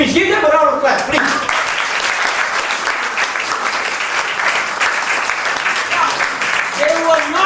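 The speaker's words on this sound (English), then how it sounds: "Give them a round of applause, please." Sustained audience applause for speakers at an entrepreneurship event, a dense, steady wash of many hands clapping that fills the whole stretch, with a brief voice at the very start and near the end.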